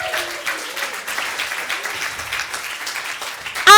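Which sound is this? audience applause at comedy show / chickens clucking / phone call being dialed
audience applause at comedy show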